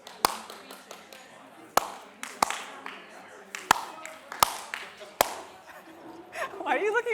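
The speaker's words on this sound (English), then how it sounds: "Clap if you can hear me." Sharp, scattered single claps ring out at uneven intervals, a few hands answering a call to clap at a community forum, with talk and murmuring between them and a rising babble near the end.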